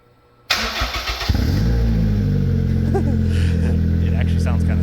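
Race car engine fires up abruptly, sputters, then settles into a loud, steady rev with a strong harmonic drone lasting several seconds.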